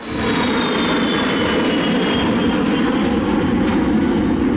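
An E-3 Sentry airborne early warning aircraft drones overhead as a steady, loud, continuous engine roar with a faint high whine, holding constant throughout without voices.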